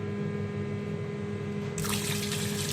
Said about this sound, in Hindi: खुले पानी से इसको धोना है